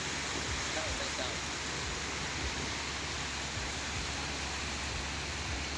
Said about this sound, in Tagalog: Lakas ng alon sa sapa dito.